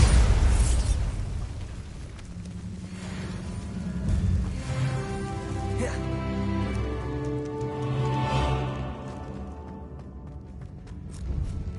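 A Bombarda blasting spell exploding in a Hogwarts video game, a deep booming burst followed by rumbling debris and a ringing, tonal magical shimmer that fades out.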